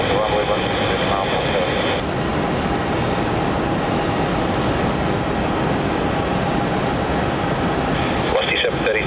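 A jet airliner roars loud and steady at Melbourne Airport during takeoff, a broad continuous engine rumble filling the whole stretch, with radio voices faintly audible.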